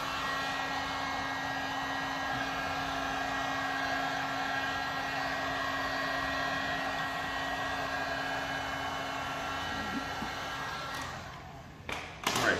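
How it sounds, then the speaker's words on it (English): A heat gun blows a steady, even whoosh with a faint whine while warming vinyl wrap on a wheel to activate the adhesive. The hiss holds unchanged for several seconds, then ends in a few soft knocks. "I'm just going to go over with a bit of heat. What I'm doing right now is activating the adhesive."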